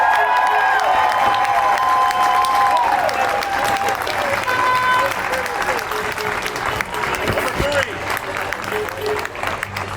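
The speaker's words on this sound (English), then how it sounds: "Let's give them a big round of applause." A crowd applauds and cheers at a Little League parade as the team's coaches are introduced, sustained clapping with scattered shouts, loud at first and easing slightly later.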